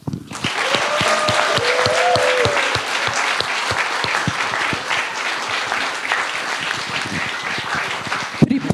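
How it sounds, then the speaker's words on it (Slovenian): An audience at a children's film premiere breaks into sustained applause, dense clapping filling the room for several seconds and thinning slightly toward the end. "Zdaj pa jim naklonimo en velik aplavz"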